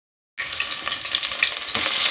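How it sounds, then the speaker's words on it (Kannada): Whole spices hitting hot oil for a quick tempering, crackling and sizzling loudly and continuously after a brief silence, with a sharper burst of spitting near the end. "ನಾನು ಬೇಗ ಮಾಡೋದಕ್ಕೆ ಫಸ್ಟು ಒಗ್ಗರಣೆ ಮಾಡ್ಕೊತೀನಿ"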